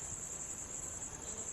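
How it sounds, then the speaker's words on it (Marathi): Crickets chirp at night around a village home, a faint continuous high trill steady from start to finish with a soft background hush. "रातकिड्यांचा आवाज येतो आहे"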